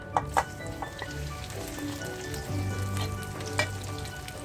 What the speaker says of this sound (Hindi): अब इसमें डालें मैरिनेट किया हुआ चिकन जो हमने कॉर्नफ्लोर के साथ मैरिनेट किया था